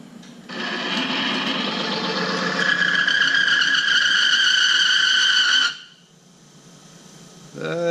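A friction test machine runs on conventional motor oil that has 5,000 miles of use. It gives a loud, sustained squealing whine with a rising tonal screech that holds steady for about five seconds, then cuts off sharply into quiet.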